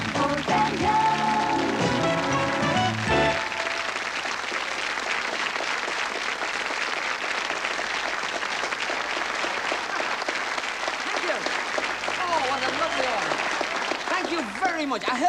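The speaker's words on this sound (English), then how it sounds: "I heard you clapping" Studio audience clapping on a 1981 Christmas special variety show, a broad, steady wash of applause that runs loud throughout, with music fading out in the opening seconds.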